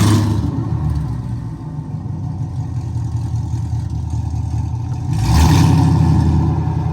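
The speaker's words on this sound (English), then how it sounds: "we can finally start the Camaro" Chevrolet Camaro V8 fitted with new headers and an X pipe, first start after install: a loud, deep rumbling idle that holds steady, then swells into a louder burst of revving near the end.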